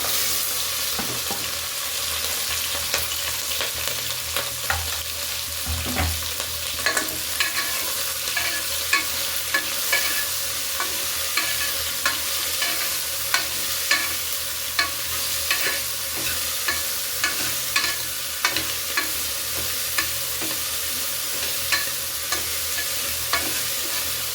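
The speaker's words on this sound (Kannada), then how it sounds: "ಇವಾಗ ಕ್ಯಾಪ್ಸಿಕಮನ್ನು ಹಾಕ್ಕೊಳ್ತಾ ಇದ್ದೀನಿ" Capsicum dropped into a pan of hot oil with mustard seeds, cumin and fennel sizzles steadily, with frequent scraping stirs and small clinks over a continuous fry hiss.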